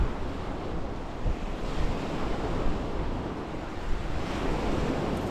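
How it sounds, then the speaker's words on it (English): Strong wind on a beach at Monks Hill, a steady roaring rush buffeting the microphone, with surf blending into the constant noise. "So it's so windy here."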